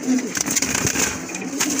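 Large pigeons coo and call close by in a loft, with several overlapping soft calls and a few sharper bird sounds in a short burst.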